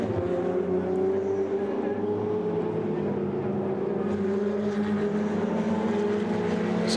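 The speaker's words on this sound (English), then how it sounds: "Christoph Herney is getting ever closer to the car of Eric Chung." Ferrari Challenge race cars run on the Budapest circuit during a Coppa Shell race, their engines a steady, loud, continuous drone with rising tones as the cars close on each other throughout.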